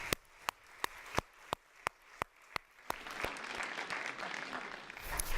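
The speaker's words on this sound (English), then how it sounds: "I want all of you to give yourselves a big round of applause for getting to this point where you're all here." A few slow, isolated claps ring out at a youth summit audience before a fuller wave of applause from the crowd swells in and holds steady to the end.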